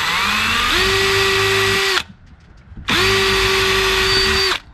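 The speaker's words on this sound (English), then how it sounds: "Now just to be safe, I'm gonna pre-drill these so I don't have any wood splitting." A power drill with a small bit pre-drills holes in wood while a wired doorbell is being replaced: two loud, steady whining bursts of about two seconds each with a short pause between, close up.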